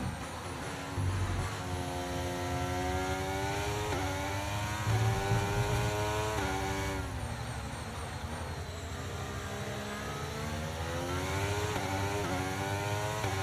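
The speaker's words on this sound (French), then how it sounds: "Le bruit de moteur a également été retravaillé." A Formula 1 car engine in the F1 23 racing game drones continuously, rising and falling in pitch through repeated gear shifts and revs, steady and loud with no voices.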